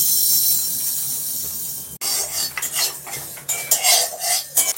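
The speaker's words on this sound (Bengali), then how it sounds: "তো এগুলো শুকনো কড়াই আমি ভেজে নেব। তো দিয়ে দিচ্ছি 2 রকম মিক্সড সর্ষে।" Black and white mustard seeds dry-roasting in a wok, giving bright crackling and scraping as they are stirred, with irregular clustered bursts after a quiet hiss.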